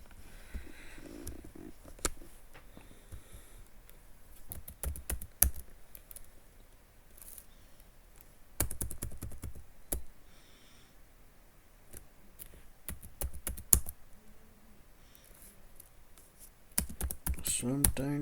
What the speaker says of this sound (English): Let me slow down and type again.